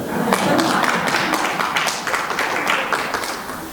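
A church congregation claps together during a sermon, a dense run of hand claps lasting a few seconds at close range.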